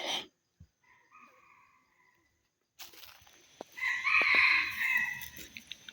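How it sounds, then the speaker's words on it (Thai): A rooster crows nearby in the wild, loud and drawn out with a rising then sustained call, after a few quieter bird notes and a pause of near silence. "นี่ไก่นะ"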